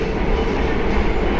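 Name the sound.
Purwojaya executive train moving on rails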